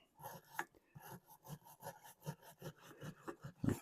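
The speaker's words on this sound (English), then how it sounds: "Let's see if we have any luck scrubbing off this carbon" A soft wire brush scrubs carbon off an engine valve by hand, giving quiet, rhythmic scratchy strokes about twice a second, close and faint, with a louder knock at the end.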